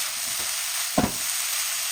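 Chicken and green onion fry in a pan with a constant bright sizzle, interrupted by a single quick stirring scrape midway.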